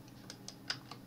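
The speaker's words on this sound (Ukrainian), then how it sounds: "Для чого натиснемо кнопку на клавіатурі" A few light clicks of keys pressed on a computer keyboard, four or five quick separate taps at close range, quiet and alone.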